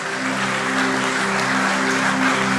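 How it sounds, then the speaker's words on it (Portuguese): A church congregation claps together in a dense, steady wash of applause lasting the whole stretch, with a faint sustained musical tone humming underneath. "Vamos aplaudir o poder do nosso Jesus Cristo."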